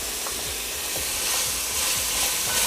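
A small amount of sweet pepper sautéing in a pan for lasagna sauce, giving a continuous close sizzle with light crackle, alone without speech.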